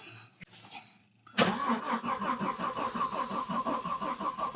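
A 1991 Audi 90 quattro sport 20v cranks briefly after a quiet pause, then catches and runs with a loud, rough, pulsing idle that continues to the end.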